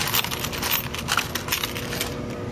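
A coin pusher arcade machine pays out, and a rapid stream of metal coins clatters and jingles as they drop and pile up. The jangling is bright and continuous, with no voices.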